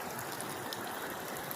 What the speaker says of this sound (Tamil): ஸோ மேலே தண்ணி அடிக்குது பாருங்கள்